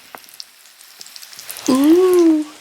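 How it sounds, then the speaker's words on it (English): Trinidadian bakes, a flat yeast-free and milk-free dough, sizzle in hot oil in a frying pan with a steady soft crackle and hiss, while a short hummed voice rises over it near the end. "And that'll sizzle away."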